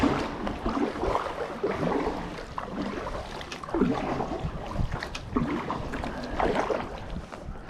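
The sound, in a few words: wind blowing on a boat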